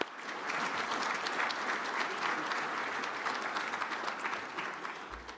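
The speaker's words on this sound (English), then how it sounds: "So please join me in a round of applause for these people." Sustained audience applause at a global real estate summit, a dense, steady wash of clapping from a large crowd that holds for several seconds without a break.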